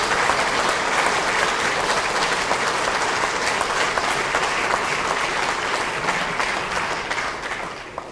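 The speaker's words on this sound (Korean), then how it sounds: "정말 감동적인 연설을 해주신 우리 안철수 후보께 다시 한번 큰 박수 한번" Steady applause from a political gathering's audience for Ahn Cheol-soo after his speech, a full wash of many hands clapping that holds for several seconds and gradually tapers off toward the end.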